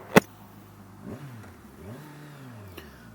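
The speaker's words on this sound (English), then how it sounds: "we are riding a 2023 Kawasaki Ninja 1000 SX" A 2023 Kawasaki Ninja 1000 SX motorcycle engine is heard while riding, giving fairly faint rising and falling revs with a few pitch sweeps, after a single sharp click at the start.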